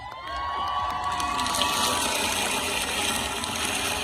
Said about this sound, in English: So let's give it a round of applause for our women.